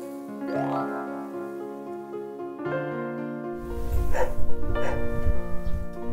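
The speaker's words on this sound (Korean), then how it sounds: "뭘 짖어." A dog barks in short bursts over a steady tonal background.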